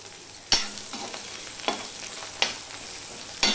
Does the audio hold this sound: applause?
no